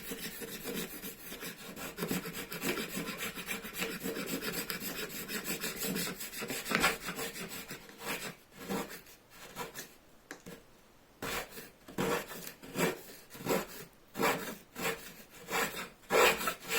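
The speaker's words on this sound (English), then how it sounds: "I mean, not the spoke shave, the card scraper." A card scraper works a wooden bow saw part during shaping, giving steady close rasping strokes that turn into separate, rhythmic scrapes toward the end, with no talk.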